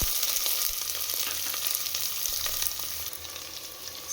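Onions sizzle in a little oil with pulao spices for chicken biryani, a steady close hiss with faint crackles and occasional stirring taps, no voices.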